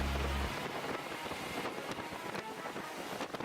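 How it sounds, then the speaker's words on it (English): Wind roars during a storm, a broad, rough rush buffeting the microphone, with a heavy low thump at the start and gusty swells throughout. "The wind howled every now and then,"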